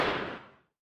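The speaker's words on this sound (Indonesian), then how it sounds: "Suara tembakan menggema ke seluruh gedung." A single gunshot reverberating through a building: a broad blast whose echo fades away over most of a second, quiet and distant, with no voices.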